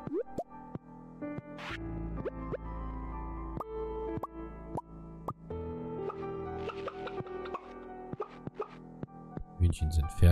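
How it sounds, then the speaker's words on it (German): Winter seeds watered in the farming game Stardew Valley, heard as a series of soft, wet plops and drips in an irregular rhythm over light in-game music, with a voice speaking at times. "Erstmal die Wintersaat gießen,"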